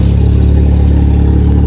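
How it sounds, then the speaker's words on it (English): A Ski-Doo XP snowmobile engine runs steadily at close range, a continuous loud low droning hum with a constant pitch throughout and no voices. "Just taking my XP Skidoo for a little ride to the parking lot here."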